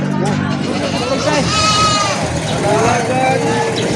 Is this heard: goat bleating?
yes